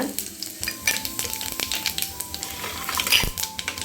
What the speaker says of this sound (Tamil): சோம்பு வெந்தயம் போட்டு தாளிச்சுக்கோங்க.